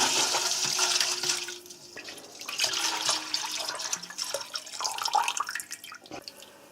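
Strong moonshine is poured into purified bottled water in a stainless steel bucket, a close, splashing liquid stream with gurgles and drips that rises and falls over several seconds, with no voices.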